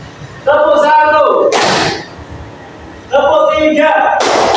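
Classroom clapping routine led by a teacher counting aloud, with sharp broadband bursts of group hand claps between stretches of speech, one burst near the middle and another at the end, fairly close and loud.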